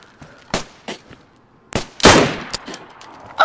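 Several sharp gunshots in DayZ, including a bolt-action rifle, crack out at irregular intervals, some distant and one louder, nearer blast, with quiet gaps between them.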